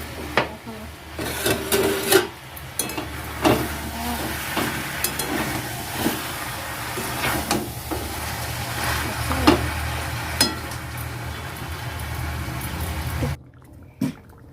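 Chicken pieces being browned in a hot pan with no spices yet added, giving a steady sizzling hiss broken by repeated scraping and stirring strokes, close and moderately loud, ending in a brief quiet spell with one last scrape.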